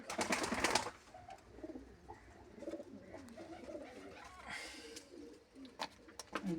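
Pigeons in a breeding loft coo softly and repeatedly, with a brief rustle of wings or movement at the start and low murmuring calls continuing to the end.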